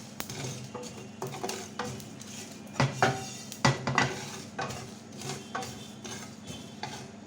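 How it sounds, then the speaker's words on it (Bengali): Panch phoron spices and two dried red chillies dry-roasting in a hot pan, with scattered clinks, rattles and scraping of a utensil stirring against the metal, close up and uneven in rhythm. "শুকনো খোলায় ভেজে নেবো"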